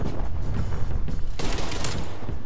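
Rapid automatic fire from a Type 63 rifle in a Call of Duty match, a loud, dense stream of shots running continuously for the whole stretch, with a sharper burst near the middle.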